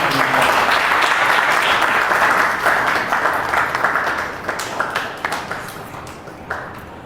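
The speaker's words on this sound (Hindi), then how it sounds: "तालियों के साथ स्वागत करें" Audience applause at a bhajan evening in a yoga hall in Gurgaon, welcoming the singer Dhiraj Kant. Loud, dense clapping from a crowd fills the room, then thins into scattered claps as it fades.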